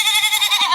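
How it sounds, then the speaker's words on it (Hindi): A goat gives one short, close, nasal bleat. "गाइस ये बकरा मुझे लगता है कुत्ते और बकरी की ब्रीड है"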